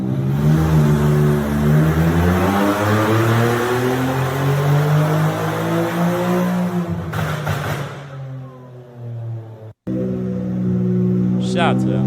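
A 900 hp Infiniti Q50 with a VRX70 turbo, on a hub dyno, revs loudly and climbs through rising engine pitch for several seconds, then the engine cuts off abruptly, followed by a brief burst near the end.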